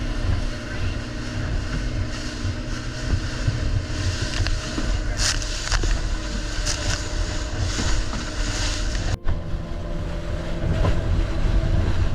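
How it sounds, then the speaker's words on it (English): A tender boat with a 15 HP outboard motor makes a bumpy ride to a dive site off an island in Raja Ampat, Indonesia, with a steady engine drone, wind and water rush, and occasional splashing thumps throughout. "we can easily get over there in the tender with a 15 HP outboard in about 10 minutes"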